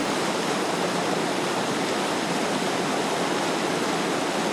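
Clear creek water rushing steadily through a forest recreation area, a dense, continuous broadband wash with no pauses or voices.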